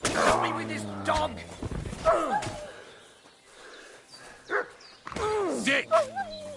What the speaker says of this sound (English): Help me with this dog!